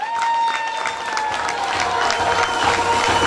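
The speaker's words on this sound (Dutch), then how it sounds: "dan nog een davend applaus" Loud sustained applause from an audience at a festive farewell ceremony for a former carnival prince, with dense clapping and some cheering filling the hall, steady and close throughout.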